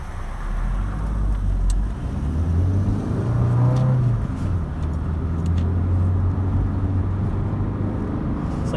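A 1986 Vauxhall Cavalier GLSi (Opel Ascona C) drives through a roundabout, its engine humming steadily from inside the cabin with slight pitch shifts as it eases through the turn, alongside constant road noise.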